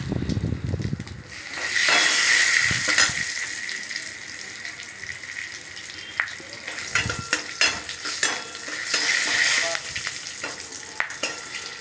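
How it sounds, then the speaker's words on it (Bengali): Spices with ripe chili sizzle and crackle in a hot pan while a utensil scrapes and stirs through them in uneven bursts. "মশলাটা একটু নাড়াচাড়া করে নিলাম"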